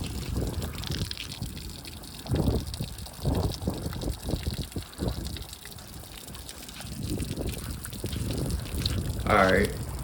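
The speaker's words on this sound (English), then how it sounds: "It's still water coming out." Water trickles and gushes out of a flooded jet ski in uneven spurts, a close splashing drain running steadily throughout with brief louder surges.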